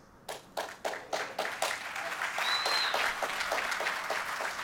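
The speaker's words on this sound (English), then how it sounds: "See a little bit of clapping." Scattered claps from a small audience at the Just Cause 3 game announcement, starting as separate sharp hits and quickly building into steady, moderate applause that keeps going to the end.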